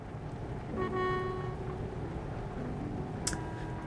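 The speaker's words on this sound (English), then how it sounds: "Honk." Truck horn in a driving video game, a single sustained tonal honk lasting about a second over a low engine hum, followed by a brief sharp click.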